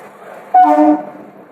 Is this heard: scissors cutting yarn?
no